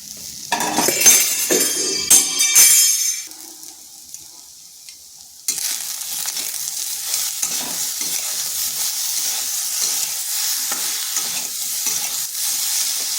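Eggplant fries in a pan, a bright, loud sizzle that crackles with stirring at first, dips briefly, then returns as a steady hissing fry with small scraping sounds in it.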